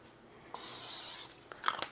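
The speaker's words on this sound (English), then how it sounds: "give it a quick spray." Oil spray hisses from a can into a bowl for sourdough bread dough, one short close burst of about a second, followed by a few light clicks and taps.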